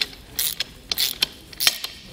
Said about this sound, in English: Now I'm going to come back with my ratchet and tighten them down